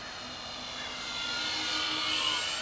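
An Avios Kingtwin 1700 twin-motor RC airplane makes a full-flap pass, its electric motors whining steadily as the sound swells closer and louder over a couple of seconds.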